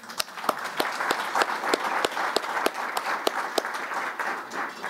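An audience at a mental health event applauds steadily, a dense patter of many hands clapping with a few sharper nearby claps standing out, continuous throughout.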